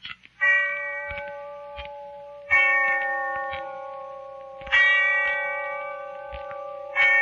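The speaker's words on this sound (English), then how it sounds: "when I heard the bell tolling somewhere in the distance" A deep bell tolls three times at steady intervals, each strike ringing out and slowly fading, with faint ticking in the background.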